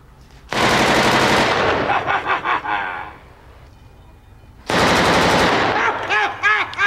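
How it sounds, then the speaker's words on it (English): Two long bursts of rapid gunfire shooting a safe open in the arcade laserdisc game Who Shot Johnny Rock, loud and close, with a quieter rattling pause between them. "Now I just had to shoot it open."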